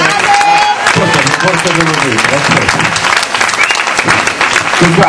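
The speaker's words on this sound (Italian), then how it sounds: "ancora un applauso a tutte e tre" Loud, dense applause from an audience at the Risate e Canzoni variety show at Villa Bruno, honoring three singers, with a voice talking over the clapping throughout.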